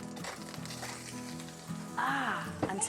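Beef browning in hot oil in a pan, a continuous sizzle with occasional sharp pops, heard up close with some background tones and rustling.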